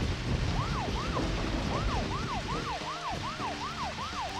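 A video game vehicle siren: a rapid, repeating wail whoops over and over above a steady engine-like drone, fairly loud and continuous, in Deadly Premonition.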